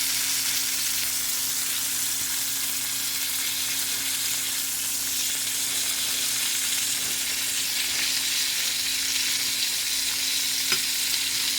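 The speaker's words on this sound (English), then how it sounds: "salted one side, then put that side down onto the beef tallow" Salted meat searing in beef tallow in a hot pan, a loud, continuous bright sizzle and crackle with a steady hiss and no talking.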